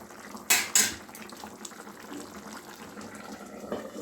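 A metal lid set onto a cooking pot of koi fish curry gives two sharp clanks in quick succession, close by, followed by quiet kitchen background.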